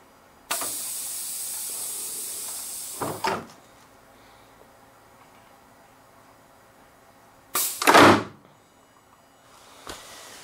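Pneumatic landing gear doors on a Skymaster F-16 model working off an airline: a long steady hiss of air, then a second short sharp burst of air with a clack, and a faint tap at the end.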